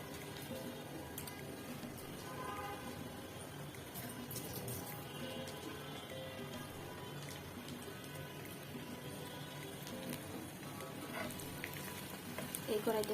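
Dried red chilies sizzle in hot oil in a kadai, where bitter gourd and yardlong beans are about to be fried; a steady, dense crackle runs the whole time, fairly close, with no talking.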